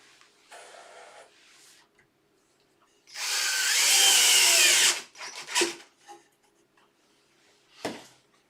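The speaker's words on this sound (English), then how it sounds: "I just make sure that I'm in the centre of my screw hole. Now the screw holes I put in there before, don't want to go too deep. Screws I'm using are brass." Power driver sinking brass screws into pre-drilled holes in a wooden bedside cabinet, giving short whirring bursts, one sustained for nearly two seconds, followed by brief squeaks and clicks.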